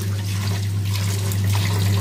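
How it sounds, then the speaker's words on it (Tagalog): Rice grains are rinsed under running water, a steady close gush from the tap with a low hum beneath, continuous and loud. "Hugasan na muna yung bigas."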